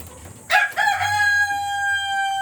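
A rooster among six-month-old breeder chickens in breeder cage number 3 lets out a single loud crow close by, its long harmonic note trailing off over faint background noise.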